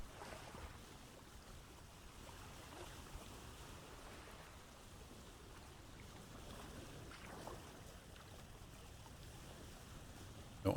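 Boat sailing across open water in Vintage Story, a steady soft wash of waves and wind rushing around it with no talk, faint and even throughout.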